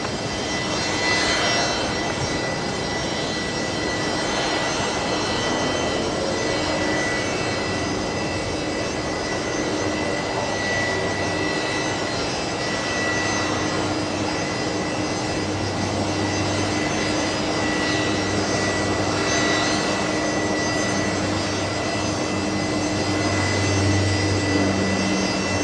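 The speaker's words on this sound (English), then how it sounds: "What a great sound there from the Rolls-Royce engines" A corporate jet with Rolls-Royce engines departs Brisbane Airport, a loud, steady jet roar that holds for the whole stretch, close and continuous with a broad rushing texture and no talk over it.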